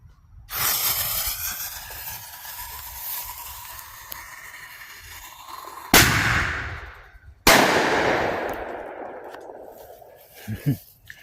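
Backyard Fourth of July fireworks: a long, loud rushing hiss, then two sharp, sudden bangs in quick succession, each followed by a fading crackling hiss. The bursts sound fairly close, with no talking.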